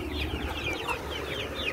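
Young chickens chatter and cluck busily near the feed and water, a dense overlapping mix of short chirpy calls from several birds close by.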